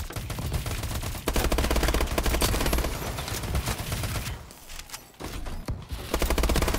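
Rapid bursts of automatic gunfire in Call of Duty Advanced Warfare, loud and close, broken by short pauses and a brief lull before the shooting resumes, with no voices.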